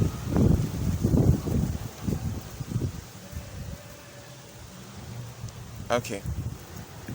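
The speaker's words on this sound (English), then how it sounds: "The wind has decided it wants to enter this chat, this video." Outdoor wind buffeting a microphone as a broad, steady rumble, with a person speaking briefly over it near the start and again at the end.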